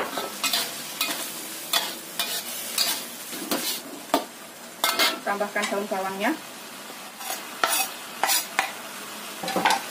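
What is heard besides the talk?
stir-frying filling in a pan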